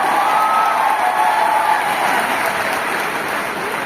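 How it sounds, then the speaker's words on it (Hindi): An audience at a training success day event breaks into loud, dense applause, steady clapping from many hands filling the room and tapering slightly at the end, with a few cheers mixed in. "तालियों में आवाज आनी चाहिए।"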